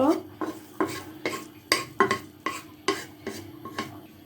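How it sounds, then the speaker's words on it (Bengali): Onions dry-roasting in a pan without oil, stirred with a utensil in rhythmic scraping strokes, roughly two per second, each a dull scrape against the metal, close and moderately loud. "তেল ছাড়াই এভাবে ভেজে লাল করে উঠিয়ে নিব আমি"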